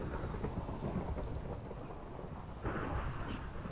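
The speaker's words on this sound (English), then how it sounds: "Did that got struck by lightning, didn't it?" Thunder rumbles in a Minecraft storm, a deep, rolling boom over steady rain, swelling again near the end with no talking.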